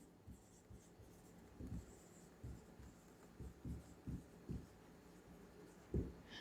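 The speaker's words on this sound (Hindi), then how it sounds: "यहाँ पर मैं एक पॉइंट लिखता हूँ" Chalk or marker taps and scrapes on a board in short, irregular strokes during a physics lesson on charging by friction and conduction, faint and close in a quiet room.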